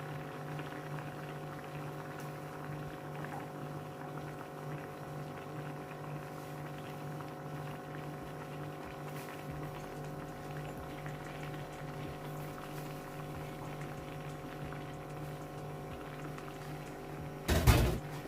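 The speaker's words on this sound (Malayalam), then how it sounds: "ഈ ഫ്ലെയിം ഓൺ ചെയ്തിട്ട് ഒന്ന് തിളപ്പിച്ചെടുക്കാം" Malabar-style Kozhikode fish curry gravy with chilli heats in a pot on the flame, a faint steady bubbling simmer over a low background hum, with a brief clatter at the very end.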